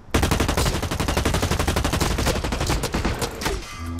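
Rapid automatic gunfire in a first-person shooter game, a dense, continuous burst of loud shots that runs the whole clip and eases slightly near the end.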